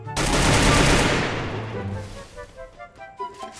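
Gunfire in the Free Fire video game: a loud, sustained burst of rapid shots that fades, then a few spaced, lighter shots.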